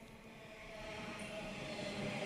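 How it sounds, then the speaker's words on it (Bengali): A train pulls into a station. A low, steady rumble of wheels and carriages slowly swells louder as it nears, heard alone without voices. "ট্রেন চলে এসছে"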